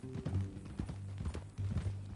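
Horse hooves clip-clopping in a video game, a quick uneven run of soft hoof knocks over a low musical and ambient bed, fairly close, with no voices.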